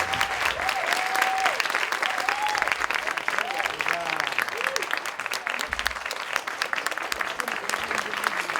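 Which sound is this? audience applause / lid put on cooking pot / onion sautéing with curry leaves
audience applause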